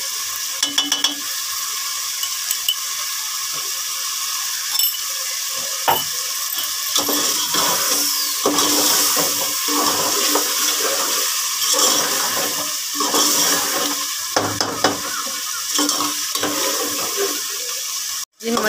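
Mung dal frying in a pan with garam masala, a steady loud sizzle broken by repeated scraping strokes of a spoon stirring the lentils, close up and without talk.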